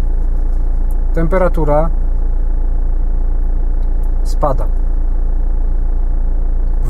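A car with weak cabin heating idles with its engine running, a steady low hum throughout as someone speaks briefly over it.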